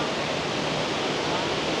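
Thundering roar of Tumpak Sewu waterfall from right beneath the falls, a dense, steady wash of broadband noise filling the whole moment with no pauses.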